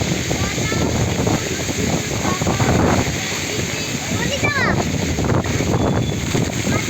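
Strong, steady wind after Cyclone Remal roars and buffets the microphone outdoors by a house, loud and continuous, with a few brief bird calls or squeaks in the middle.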